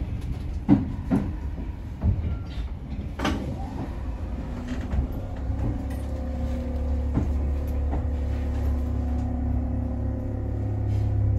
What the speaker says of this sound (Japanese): 列車は間もなく鈴鹿線の終点駅となります平田町駅に到着となります。